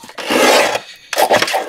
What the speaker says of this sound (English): I'm going to trim up this top just a little bit because it's uneven